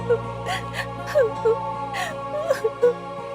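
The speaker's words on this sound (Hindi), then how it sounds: "ये कौन है जिसकी मुझे रोने की आवाज सुनाई दे रही है" A girl's short whimpering cries and sobbing gasps come in uneven bursts, high and shaky, over a steady low background hum.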